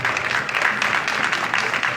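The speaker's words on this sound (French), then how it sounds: "Applaudissements." An audience applauds after a speech at an evening cultural presentation, a steady, dense wash of clapping that fills the whole moment with no voices on top.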